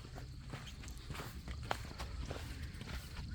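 Steady footsteps crunch along a hiking trail on Section 3 of the MacLehose Trail in Hong Kong, a regular walking rhythm of close, moderately loud steps over a constant outdoor background.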